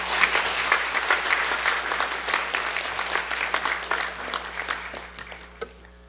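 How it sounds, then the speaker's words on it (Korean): A church congregation applauds to welcome a pastor to the pulpit, a dense, sustained crowd clapping that carries steadily and fades slightly near the end. "목사님 나오실 때 큰 박수로 환영해 주시기 바랍니다."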